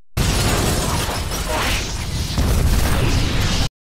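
A loud, sustained explosive roar of a film explosion, with crackling, rumbling debris, fills a few seconds, then cuts off abruptly.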